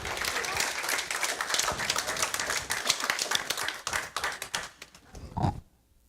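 A congregation at a celebration service breaks into sustained applause, dense clapping that carries on before fading and stopping near the end.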